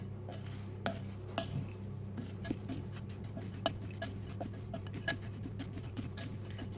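Homemade granola mixture stirred in a salad bowl, soft scraping and light clinks of a utensil against the bowl in an irregular rhythm, quiet and close, with no talking.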